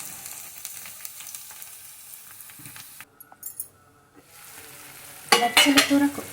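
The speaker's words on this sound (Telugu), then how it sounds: "బచ్చల కూరను అలా వేసుకుని ఒకసారి కలుపుకుందాం ఫ్రెండ్స్" Malabar spinach (bachhali kura) being stirred in a hot pan, with soft sizzling and scattered scraping, a quieter stretch in the middle, then a louder burst of sizzle and clatter near the end.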